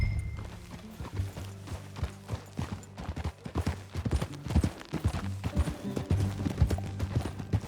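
Steady clip-clop of horse hooves at a brisk gait in Red Dead Redemption 2, with a rolling music bed underneath and a brief whinny near the end.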